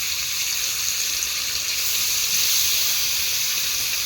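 Taki fish frying in hot oil, a steady bright sizzling hiss that holds constant and close, with no voices.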